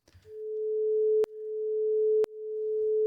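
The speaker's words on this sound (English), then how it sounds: "These kind of sine waves, they are becoming larger," A pure sine tone fades in linearly, growing steadily louder, then drops back and swells again three times in a row, with a faint click at each restart.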